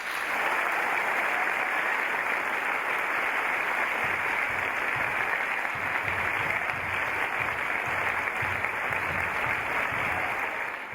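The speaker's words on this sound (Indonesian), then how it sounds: "kita berikan tepuk tangan yang meriah" Loud, sustained applause from a church audience welcoming vicars, a dense continuous clapping that fills the room without pause and with no speech over it.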